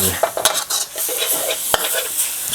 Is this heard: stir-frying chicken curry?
yes